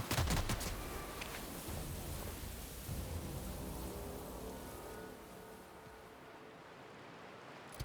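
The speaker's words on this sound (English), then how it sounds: "Returning fire!" Sustained gunfire in a firefight in The Outer Worlds, a loud burst at the start fading into a long rumbling, crackling tail of rapid shots and echoing reports.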